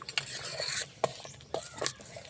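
Vegetable khichuri of rice, dal and turmeric is stirred in a pot, giving a few quick scraping and clinking strokes up close over a soft bubbling sizzle.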